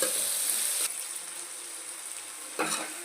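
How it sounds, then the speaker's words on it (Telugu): Tomatoes fry with onions in a pan for a Godavari fish and okra stew, a loud close hiss of sizzling oil that dips briefly, then flares again with a stir. "ఉల్లిపాయలు బాగా ఫ్రై అయిపోయాయి కదా. ఇప్పుడు టమాటాలు వేసుకుందామండి."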